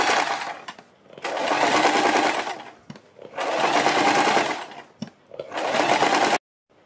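Sewing machine stitching along a kurti neckline beside buckram, three loud close bursts of rapid whirring stitching separated by short pauses, then stopping.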